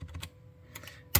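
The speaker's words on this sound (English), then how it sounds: "So if we just type in that AC1200, I'll just go AC1200." A short burst of typing on a computer keyboard, a few close, quiet key clicks, then a pause and a final louder key press, with no voices.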